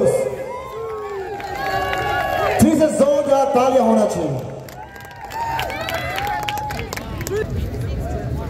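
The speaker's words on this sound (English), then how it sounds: "So I would request all the audience to give them a big round of applause." An audience at a Mr. Longding 2024 pageant cheers and claps for the contest winners, with a lively crowd roar and scattered clapping while an announcer speaks over a microphone throughout.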